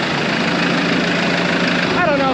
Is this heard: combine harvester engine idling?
yes